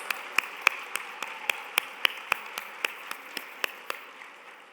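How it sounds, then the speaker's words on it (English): At a women's luncheon, a sparse handful of audience members clap in slow, distinct, evenly spaced claps, fairly faint over a quiet room hum. "give yourselves a round of applause"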